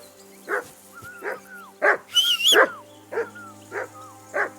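Repeated close dog barks from the video game Kingdom Come Deliverance II, spaced irregularly with a brief cluster in the middle, plus a thin high whistle and low hum beneath.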